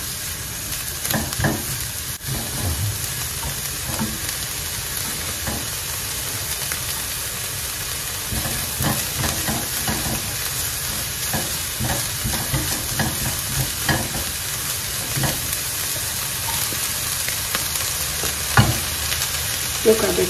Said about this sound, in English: My favorite part of cooking, when mixing all the veggies.